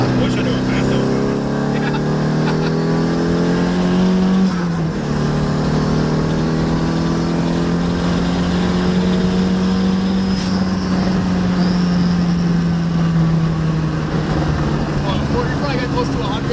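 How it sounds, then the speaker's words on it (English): An SR20-swapped Mazda FB RX-7 pulls hard from inside the cabin, engine note climbing loud and steady through gears with turbo whine and a brief shift break, drowning out everything else. "Nothing but the turbo noise."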